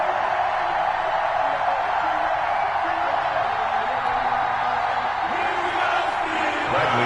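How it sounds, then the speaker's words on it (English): A packed stadium crowd in Madden 21 cheers before a Cincinnati Bengals versus Pittsburgh Steelers game, a loud, unbroken roar of voices with scattered shouts rising near the end. "This crowd is ready as their guys get set to match up between the Cincinnati Bengals and the Pittsburgh Steelers"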